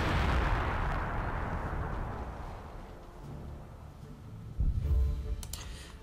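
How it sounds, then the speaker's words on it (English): Artillery bombardment in the WWII strategy game Company of Heroes: Opposing Fronts, a dense, continuous rumble of shell impacts that fades slightly mid-clip before a louder burst of blasts near the end. "The bombardment has begun."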